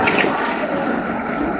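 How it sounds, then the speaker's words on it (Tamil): Water pours steadily into a cooking pot of spiced soup, a continuous close rushing splash that stays even throughout. "இன்னும் பார்த்தீங்கன்னாக்கா ஒரு 2-3 லிட்டர் தண்ணி ஊற்றலாம்."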